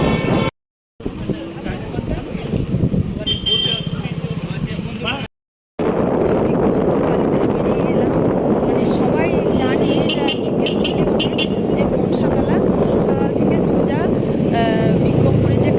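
A motorcycle rides slowly along a main road, its steady engine drone and wind rumble continuous and loud, with two brief dropouts near the start and a voice faintly under the noise.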